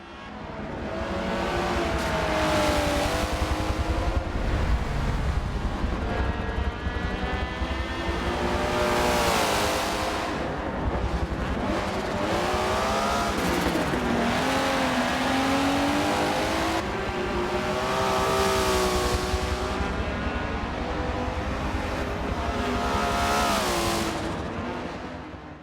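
A race car in the Forza driving game, engine revving up and down continuously through gear changes, loud and close throughout, with rising and falling pitch sweeps.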